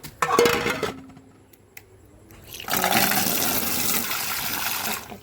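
Water from a tap gushes and splashes as hands are washed, with a brief clink of a bowl at the start, then a pause and a louder steady rush of running water that continues to the end.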